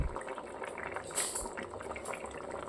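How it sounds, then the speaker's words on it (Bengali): Potato and eggplant curry boils gently in a pan, with quiet bubbling and a faint metallic clink in the middle. "আমি একটু ফুটতে দেবো"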